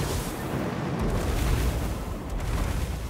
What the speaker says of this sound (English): all these units are just getting absolutely wrecked by fireballs